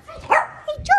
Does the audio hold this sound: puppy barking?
yes